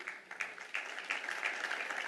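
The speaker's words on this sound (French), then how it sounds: "On va vous applaudir pour vous encourager." A conference audience claps in a soft, distant round of applause. The patter is faint and muffled but steady for about two seconds, with a few slightly louder swells.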